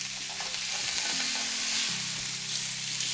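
Swordfish sizzles steadily on a hot grill through a flip, a dense crackling hiss with a low hum running under it, close and continuous with no talking.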